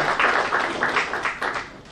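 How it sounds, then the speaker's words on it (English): Audience applause at a curtain raiser ceremony, a short burst of brisk, dense clapping, close and fairly loud, tapering off toward the end. "A round of applause, ladies and gentlemen."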